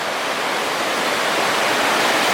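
Niagara Falls roars as tons of water pour over, a dense, unbroken rushing wash at close range, loud and steady throughout with no voices.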